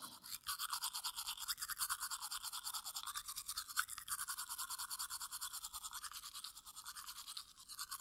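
Toothbrush bristles scrubbing teeth in close, intimate ASMR style, a continuous rapid swishing scrape that pulses slightly in rhythm, soft but constant throughout with no speech.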